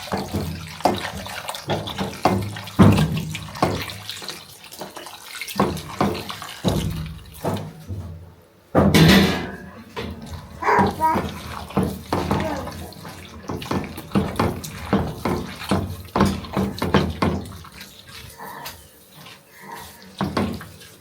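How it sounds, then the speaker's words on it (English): Plain cold water poured while preparing Nigerian fufu, a steady splashing stream with irregular surges and a brief louder gush midway, close and continuous with no talking. "this is our plain water here. Just cold water, it's not hot."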